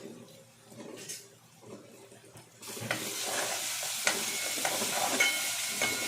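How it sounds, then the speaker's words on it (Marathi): Ginger, garlic and green chili paste frying in a little oil for egg dum biryani: quiet stirring at first, then a loud, steady sizzle breaks out about halfway through and keeps going, with occasional scrapes and clicks. "अद्रक, लसूण, हिरवी मिरचीची पेस्ट फ्राय करून घेऊया"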